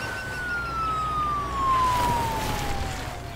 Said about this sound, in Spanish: justo cuando pasa la patrulla